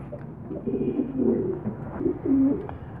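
Pigeons coo close by in soft, throaty rolling calls, several overlapping phrases over a low background murmur.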